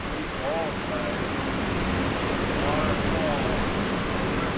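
Waterfall pouring onto a beach beside the Pacific at McWay Falls, California, a loud broad steady rush of water blending with surf, constant throughout with faint voices in the background.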